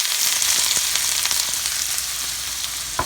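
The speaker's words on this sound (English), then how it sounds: "I'm going to go ahead and add my onions." Onions sautéing in a hot pot on medium heat, a steady close sizzle and crackle that holds evenly throughout with a few small pops, no talking.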